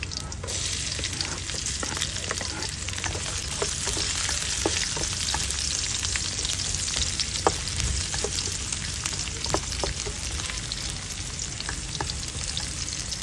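Garlic sizzles steadily in hot oil in a pan for beef pares, a dense continuous crackle with scattered sharper pops, loud and close with no voices.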